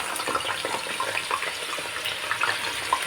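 Raw potatoes dropped into hot oil for deep frying, giving a steady loud sizzling crackle with no talk over it.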